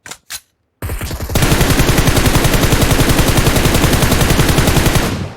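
Gunfire in PUBG Mobile: a couple of short sharp shots, a brief pause, then loud sustained automatic fire rattling in a fast steady rhythm for several seconds, close and dominant.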